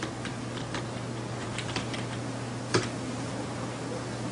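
Light typing on a computer keyboard, a handful of soft, close key taps spread unevenly over a steady fan-like hum, with one slightly sharper click near the end.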